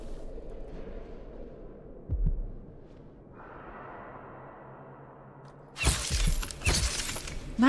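In the video game Dishonored 2, a chandelier falls and shatters: a low rumbling game ambience and hum, then a sudden loud crash of breaking glass and metal with a second burst of shattering debris.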